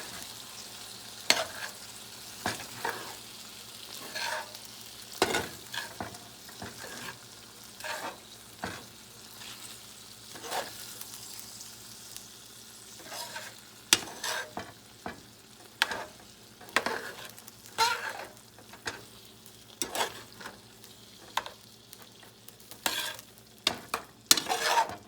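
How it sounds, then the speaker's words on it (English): A spoon scrapes and stirs through a mustard and brown sugar mixture cooking in a pan, a low steady sizzle under repeated close, uneven clacks and scrapes with no talking. "Then you're just gonna mix this all around and let it cook."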